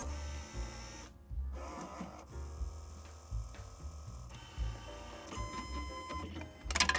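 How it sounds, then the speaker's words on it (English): A Magicard Tango 2E card printer feeds a card, giving close, quiet mechanical whirring, clicks and motor buzz in uneven short bursts, ending with a louder clatter. "we tried putting an actual card through the machine"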